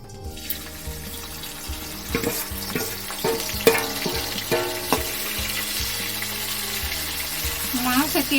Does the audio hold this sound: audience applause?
no